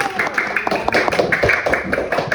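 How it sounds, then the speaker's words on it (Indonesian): Brief clapping fills a classroom as a group of students finishes a presentation, an uneven patter of hands heard close, with voices mixed in. "tepuk tangan untuk kelompok 1"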